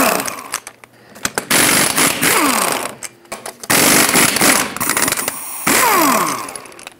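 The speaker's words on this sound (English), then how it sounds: "And now you can use a 21 millimeter socket and remove all 8 lug nuts." Lug nuts on a Ford F-350 front wheel being removed with a 21 mm socket on a power tool, loud bursts of buzzing rattle separated by short pauses, close up with no talk.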